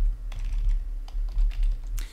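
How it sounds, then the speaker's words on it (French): Keys clatter on a computer keyboard while a word is typed into the vi text editor on Unix, irregular clicks in quick bursts, close and fairly loud, no talking. "vous tapez le mot que vous souhaitez rechercher"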